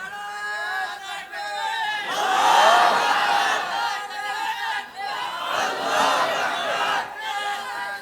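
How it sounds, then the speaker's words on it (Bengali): A large crowd of young men at an outdoor religious sermon gathering chants the Takbir slogan, loud massed voices rising and falling in repeated call-and-response waves. "তো হাত উঁচু করে যুবকরা স্লোগান দিয়ে দেখাও, নারে তাকবীর।"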